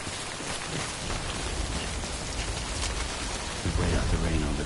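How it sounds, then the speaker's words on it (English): Steady rain pours down in a dense, continuous hiss with a faint low rumble beneath, loud and close throughout with no voices. "We wait out the rain over there."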